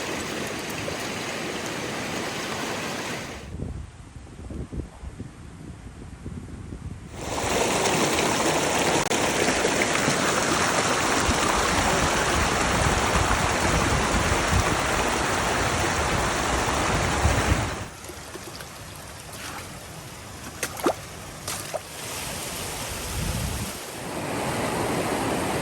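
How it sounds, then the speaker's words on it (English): Rushing stream water at a river crossing on the Pacific Crest Trail, a loud steady wash with wind buffeting the microphone and a couple of quieter gaps. "you have to walk up the stream in this current, which is super hard"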